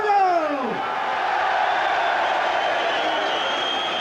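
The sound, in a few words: crowd applause for a boxer after the fight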